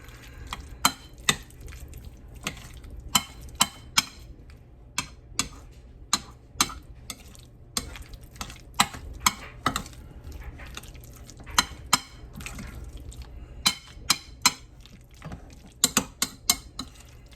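Shrimp salad with a little pepper being mixed in a bowl, giving a steady run of sharp clicking and tapping strikes at an irregular rhythm, close and fairly quiet, with no talking.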